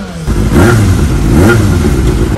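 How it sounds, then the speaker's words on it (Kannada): A Kawasaki Ninja motorcycle revs hard through its exhaust, close and very loud, rising and falling in two strong surges with a steady rumbling idle underneath and no voices. "ಸೈಲೆನ್ಸರ್ ಎಕ್ಸಾಸ್ಟ್ ಸೌಂಡ್ ಎರಡು ಸೇಮ್."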